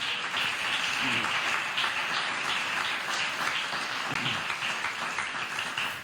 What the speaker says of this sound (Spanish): Den un aplauso a Dios por esto.